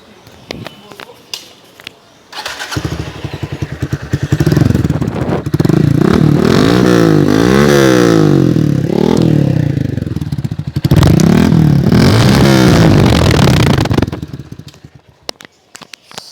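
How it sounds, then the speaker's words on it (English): A loud Honda X-Blade motorcycle revs hard through a raspy aftermarket Two Brothers exhaust, rising and falling in two long bursts after a quiet start, with clatter around it. "right now you will be hearing the exhaust sound of the motorcycle"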